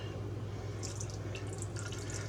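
Water runs and splashes steadily from a tap into a pot, a continuous liquid rush with faint dripping over a low background hum.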